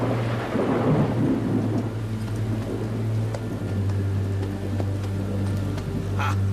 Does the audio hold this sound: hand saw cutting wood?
no